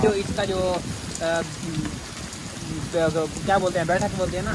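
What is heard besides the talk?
heavy rain falling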